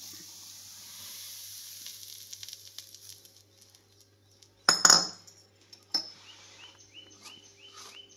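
Ghee heating in a kadhai gives a faint, steady sizzle. Sharp metallic clinks and scrapes of utensils break in partway through, with no talk.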